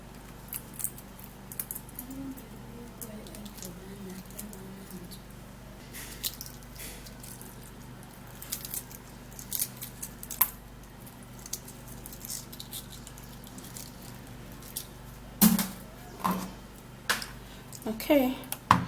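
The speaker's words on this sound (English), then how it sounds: "what you're going to do is to peel off the egg" Fingers pick the shell off a half-cooked boiled egg in a kitchen, giving soft scattered cracks and small tapping clicks under quiet background noise, with a few sharper crackles toward the end.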